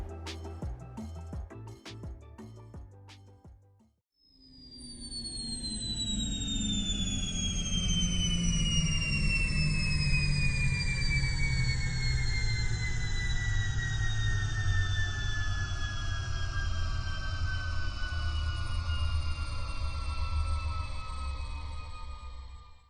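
Simulated spacecraft engine during a landing approach to the Very Large Telescope observatory: a loud sustained roar with a deep rumble and high whining tones that slowly fall in pitch, steady and close, after a brief musical opening.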